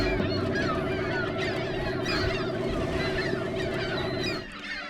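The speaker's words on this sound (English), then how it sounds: "It was these birds." Hundreds of birds honking and calling as they circle overhead above an island, a dense, continuous chorus of goose-like cries layered over a steady low engine or boat hum.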